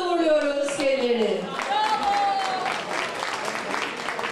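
Applause from a crowd fills the clip, steady and moderately loud, with a voice and a sustained tone sounding over the clapping at first.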